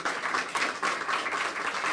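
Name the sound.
audience applause at a town hall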